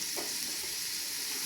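Onions frying in hot oil over a low flame, a brief soft steady sizzle with faint stirring, close and quiet, no talk.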